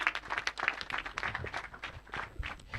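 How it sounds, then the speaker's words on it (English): Audience applauding panelists at an alumni association launch, a short burst of scattered, uneven clapping heard faintly from a distance. "Another round of applause to them."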